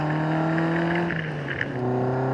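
A Caterham car engine hums at steady high revs from inside the vehicle, its pitch dipping briefly as if shifting, then holding again.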